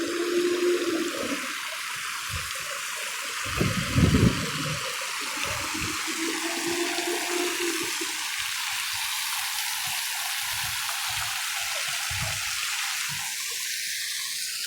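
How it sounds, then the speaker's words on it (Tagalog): Water from a garden fountain in Makati City splashes and rushes steadily, a broad continuous spray at moderate level with a short louder patch near the start and faint background sounds. "Fountain."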